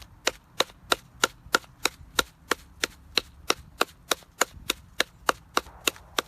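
Folded pine resin gets pounded to crumble it, about twenty sharp, evenly spaced hard knocks in a quick steady rhythm, loud and close with nothing else heard.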